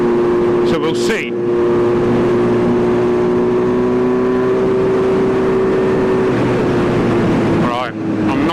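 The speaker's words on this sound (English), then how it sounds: "see if the bike runs as nicely as it was before, where it would run in 6th gear doing 30" Kawasaki Z900RS motorcycle fitted with a full Racefit titanium exhaust, ridden in sixth gear at low speed on an incline, a steady loud engine drone with wind buffeting at the start and end.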